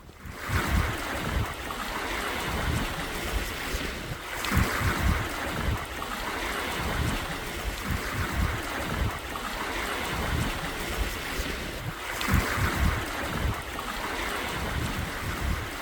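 Sailboat running under spinnaker in perfect conditions off the Baja coast, with steady wind buffeting the microphone and waves washing and slapping against the hull in recurring surges, no talking.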